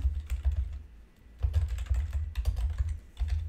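Keys clatter on a computer keyboard in a quick, uneven run of close taps, with a short pause before the typing resumes.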